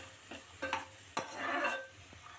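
Peanuts frying in hot oil in a pan, stirred several times with a spoon scraping against the metal, with a soft sizzle building in the middle; close and fairly quiet, no talk.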